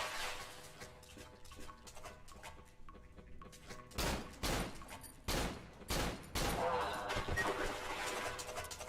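Gunfire in the horror video game Cry of Fear, a run of loud sharp shots in quick bursts during the second half, following quieter game ambience and talking voices.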